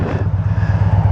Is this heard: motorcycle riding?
yes